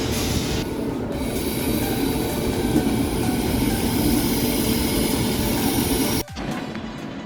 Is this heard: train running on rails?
yes